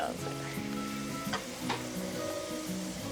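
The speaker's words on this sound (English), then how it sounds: "Just frying, because you can't make the dough and like pat it before and stuff, right?" Dough frying in hot oil sizzles steadily at low volume, with a few sharp pops and faint kitchen clatter over a humming background.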